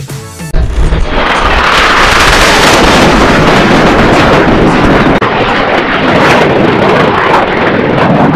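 Red Bull Air Race stunt planes at the 2018 Abu Dhabi championship roar past, a loud, continuous broadband engine noise that builds sharply after half a second and holds steady, close and dominant throughout.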